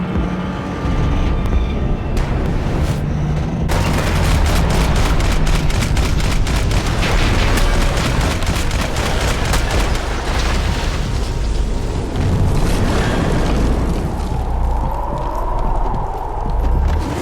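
Sustained heavy gunfire in the action video game Max Payne 3, loud and continuous, with dense rattling shots and booming impacts filling the whole stretch.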